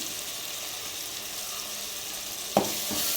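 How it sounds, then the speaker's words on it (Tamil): Ginger garlic paste frying in a pan for Tamil-style spicy mutton curry, a steady close sizzle throughout, with a brief clatter near the end as the paste hits the oil. "இப்போ வந்து பார்த்தீங்கன்னா இஞ்சி பூண்டு ஒரு பேஸ்ட் போட்டுக்கிறேன்"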